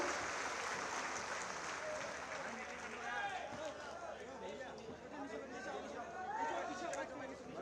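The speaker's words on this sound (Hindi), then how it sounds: "रीता देवी मंच पर बहुत जोरदार तालियों से उनका अभिवादन।" A crowd at an honouring ceremony for sanitation and health workers in the Prayagraj Maha Kumbh Mela area applauds an award recipient, steady clapping blended with chatter and voices throughout, moderately distant.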